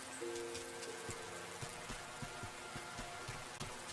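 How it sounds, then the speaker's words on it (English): Steady rain pattering in the cozy farming video game Wylde Flowers, a continuous soft hiss with scattered sharper drips over a low ambient hum, heard alone without voices. "It is raining."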